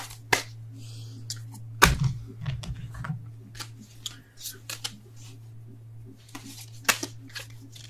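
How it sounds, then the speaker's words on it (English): Tarot cards are shuffled and handled at close range, giving scattered crisp flicks and papery riffles with a louder burst near the start, over a steady electrical hum. "and I can't shuffle either"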